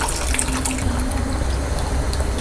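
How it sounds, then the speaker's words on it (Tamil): Tamarind water poured into a pot of simmering sambar, a steady close liquid splash and gurgle running unbroken the whole time with no talk over it. "இப்போ புளி ஊற்றிக்கலாம்"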